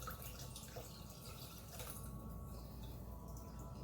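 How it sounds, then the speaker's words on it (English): Freshly squeezed lemon juice trickles through a strainer into a pitcher for lemonade, a soft, steady drip and patter that stays quiet throughout. "add in the lemon juice that we squeezed. I'm going to use a strainer over top of my pitcher."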